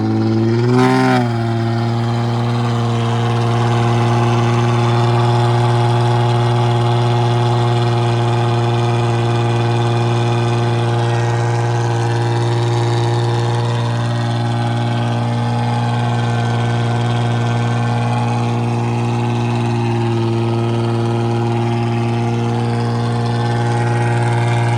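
A Chrysler 300 held at high revs during a burnout, a loud, sustained, buzzing engine tone with strong steady harmonics after a short surge at the start, drifting slightly in pitch.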